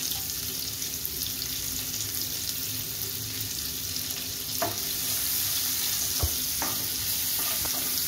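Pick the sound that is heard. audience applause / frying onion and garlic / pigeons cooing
frying onion and garlic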